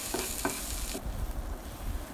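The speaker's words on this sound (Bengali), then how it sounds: "আমি কিন্তু শাকটা অনেকক্ষণ তেলে পরে রেখে দেবো, ভালোভাবে নাড়াচাড়া করবো" Atari patari greens fry in oil while being stirred, a close, steady sizzle with a couple of sharper spatula scrapes early on, then a quieter hiss, no voices.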